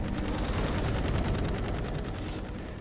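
Rapid, continuous gunfire from the Dark Void video game, with dense bursts of shots stacked over rumbling game sound that stays loud and steady throughout.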